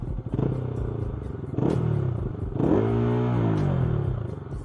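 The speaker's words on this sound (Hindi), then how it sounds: "मफला हटाने की वजह से काफी बेसी साउंड हो गई है अब इसकी।" A Bajaj Pulsar RS200 motorcycle with the muffler removed revs hard nearby, its bassy exhaust note rising and falling through several loud throttle blips.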